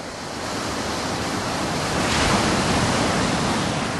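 Sea waves roll in a steady, full-bodied roar that swells slightly toward the middle and stays consistent throughout, with no voices.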